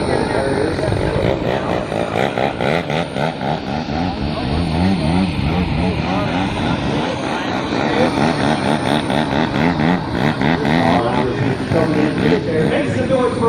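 An AJ Aircraft radio-controlled model airplane performs at an air show, its engine loud and continuous with a rising and falling whine as it passes overhead.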